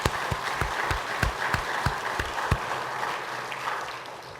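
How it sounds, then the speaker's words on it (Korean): A church congregation claps at an Easter Sunday service, a loose rhythm of distinct hand claps that gradually thins into a softer patter, heard from a moderate distance with no talking. "하나님 앞에 또 부활하신 주님께 우리 박수로 영광 먼저 돌리겠습니다."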